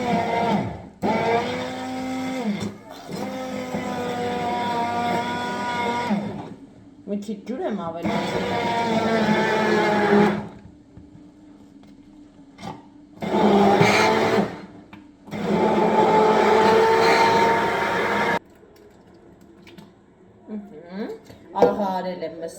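A blender chops mixed greens for minced meat in several loud whirring bursts separated by pauses, and a person speaks between the runs.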